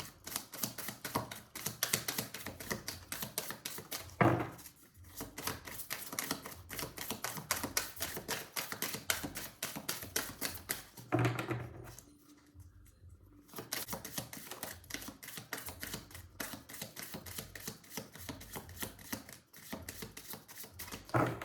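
Tarot cards are shuffled close by in a long run of rapid, crisp clicking and flicking. The sound pauses briefly twice, then resumes at a quiet, even pace.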